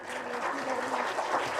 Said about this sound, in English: I think your presentation got maximum claps, ma'am.